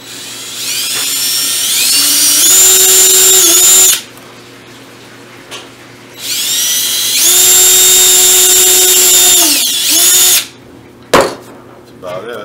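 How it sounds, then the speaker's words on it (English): A power drill whines up loudly twice in long bursts, drilling pilot holes in wood, pitch rising as it bites and spins, with short pauses and a brief knock between. "I'm going to drill a couple pilot holes in it."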